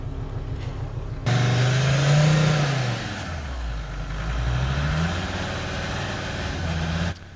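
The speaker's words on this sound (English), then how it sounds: "The car is powered by used motor oil." A Volvo S70 running on used motor oil revs hard, its engine note climbing, dropping and climbing again in swelling surges before cutting off abruptly; close, loud and with no talking.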